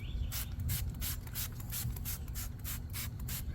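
Wheel cleaner and iron remover is sprayed onto a car wheel's barrel in a quick series of short, close hissing spritzes, about a dozen in a steady rhythm over low background noise.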